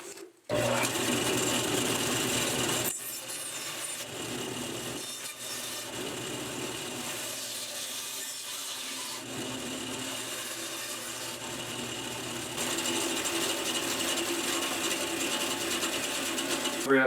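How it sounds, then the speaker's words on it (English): A saw cuts a burl bowl blank round, a loud, sustained mechanical buzzing drone with a brief pause, steady through long cuts and rising slightly near the end. "Now I'm going to cut the bowl blank around so that it spins a lot easier once I put it on the lathe."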